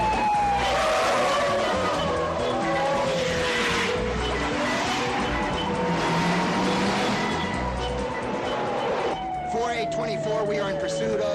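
A police car chase on Sumter Boulevard in a 1978 crime drama, with tires squealing and skidding over a roaring engine, loud and close, continuous across the scene.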